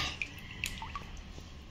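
Cut pointed gourd is washed in water, giving faint, scattered drips and small splashes over a low background hiss, quiet and close.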